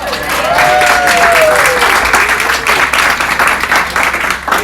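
A crowd claps steadily and loudly throughout, a dense sustained round of applause for speakers at a talk on a low-carb cruise, with no one speaking over it.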